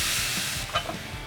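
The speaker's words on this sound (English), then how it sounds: "Tenderloins on the sear." Beef tenderloin sears on hot grates of a PK grill at about 450 degrees, a steady loud hiss with a few small pops and crackles near the end.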